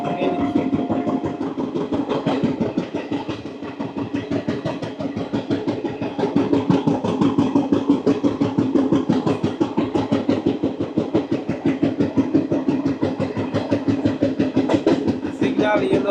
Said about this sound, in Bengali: ট্রেন আসছে